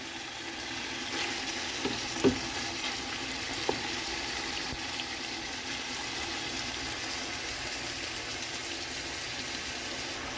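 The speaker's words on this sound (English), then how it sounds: "Once it come up to that good old sizzle, just toss it all around" Steady crackling sizzle of shrimp and chicken frying in a hot pan, with a couple of soft clinks as it gets stirred.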